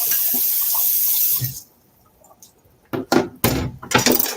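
Tap water runs loudly into a kitchen sink as fish for ceviche is rinsed. The flow then cuts off, followed by a few close splashes and clatters.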